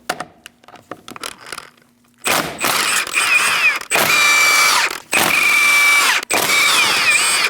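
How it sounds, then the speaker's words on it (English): A power tool fitted with a 17mm socket removes the wheel on a 2000-2006 Mini Cooper, running in several loud, sustained bursts with short pauses between them, after a few softer clicks and taps at the start. "Using a 17mm socket, we're going to remove our wheel."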